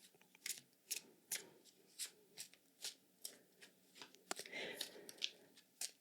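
Tarot cards being shuffled by hand, soft, close crisp riffles and taps in an uneven run, quiet and intimate, with faint breathy sounds between.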